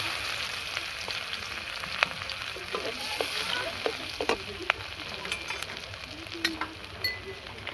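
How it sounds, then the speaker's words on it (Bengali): Black cumin seeds and crushed garlic frying in hot oil for a tempering, a steady close sizzle and crackle with scattered pops and a few light stirring scrapes. "এখানে দিয়ে দেবো একটু কালো জিরে ফোড়নে, আর দিয়ে দেবো রসুন থেঁতে নিয়েছি আমি।"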